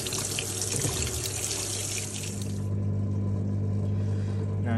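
Water rushes and gurgles steadily as a Fisher and Paykel WashSmart 7kg washing machine drains before its final 1000 RPM spin, the bright splashing fading midway while a low hum continues.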